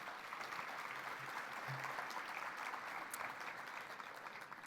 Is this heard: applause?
yes